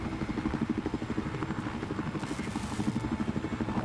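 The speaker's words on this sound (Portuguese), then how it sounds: "Maldito de helicóptero." A helicopter in the video game Battlefield Hardline thumps with a fast, regular rotor chop, moderately loud and continuous, with no talk over it.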